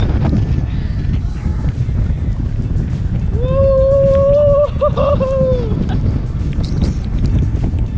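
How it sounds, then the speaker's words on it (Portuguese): Strong wind buffets the microphone along Ireland's Wild Atlantic Way coast, a loud, continuous low roar throughout, with a brief tonal whistle rising mid-way before fading back into the gusts. "Só pra vocês terem uma sensação do vento nesse lugar."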